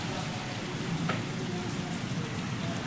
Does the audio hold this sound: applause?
no